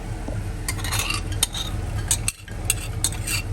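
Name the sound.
smoked bacon lardons pan frying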